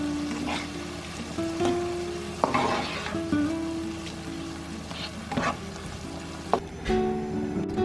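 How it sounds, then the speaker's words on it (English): Pre-cooked rice frying with chili peppers and garlic for spicy ginger fried rice, a steady close sizzle under repeated scraping stirs and occasional spatula knocks against the pan. "I'm adding 1 teaspoon of chili peppers, 1 teaspoon of garlic, and then mix it really well."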